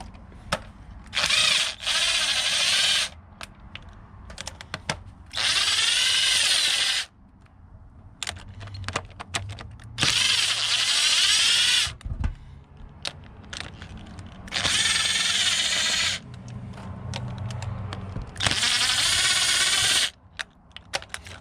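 A power tool spins off the 10 mm valve cover bolts on a 2004 Toyota Sienna 3.3L. Close whirring bursts of a few seconds each repeat about five times, with clicks and clatter from handling the tool and bolts in the pauses.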